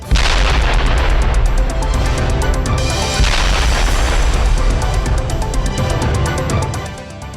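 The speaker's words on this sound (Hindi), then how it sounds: "जोरदार धमाके का यह वीडियो साउथ कोरिया और नॉर्थ कोरिया की सीमा का है" A loud, sustained rumbling roar with heavy booming and crackling from the demolition of a road and railway track on the North–South Korea border fills the whole stretch and fades slightly at the end.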